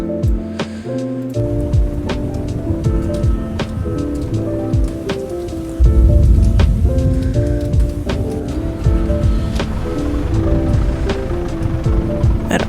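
Heavy rain around a mile-wide wedge tornado: a loud, steady broadband roar of rain drumming on a vehicle, with sharp scattered impacts throughout and a surge in intensity midway, with no talk.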